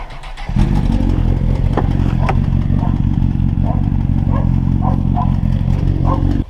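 A motorcycle fitted with a manual timing chain tensioner idles steadily nearby, a loud continuous engine drone with faint mechanical ticking on top, no one talking.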